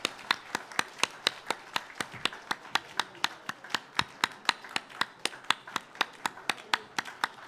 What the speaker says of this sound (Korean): 네, 다시 한번 박수하겠습니다.